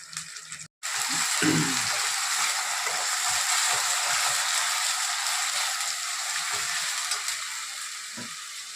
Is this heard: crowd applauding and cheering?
no